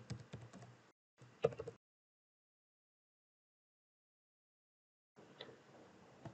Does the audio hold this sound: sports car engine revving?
no